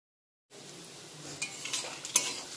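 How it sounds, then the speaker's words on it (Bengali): Vegetables stir-frying in a pan with salt and pepper for a leftover-rice dish, starting after a brief silence as a soft, steady sizzle with a few clinks and scrapes of a utensil, close and quiet. "দিয়ে মশলাটা ভালো করে মিক্স করে নেব।"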